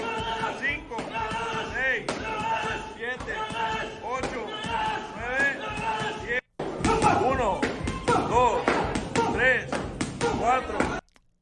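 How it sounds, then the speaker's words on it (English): Two boxers train, with repeated sharp thuds and slaps of punches landing in rapid, irregular bursts, mixed with music and talk, and a brief cut to silence midway. "if you notice the sound of the punches"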